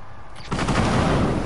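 Video game gunfire bursts in suddenly after a short quiet lead-in, then rattles on as loud, rapid, continuous shooting with no one talking.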